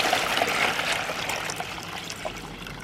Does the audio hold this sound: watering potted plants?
yes